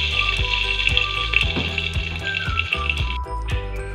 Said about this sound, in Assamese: আমি অলৰেডি বাচা তেলখিনি কুকাৰত আমি ঢালি দিছোঁ।